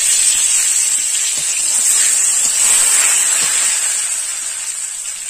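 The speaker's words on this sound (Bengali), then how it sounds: "তেলে ফোড়ন দেব তেজপাতা শুকনো লঙ্কা" Bay leaf and dried red chilli tempering sizzle steadily in hot oil in a kadai previously used for frying fish, a continuous bright hiss with faint crackles throughout, easing slightly toward the end.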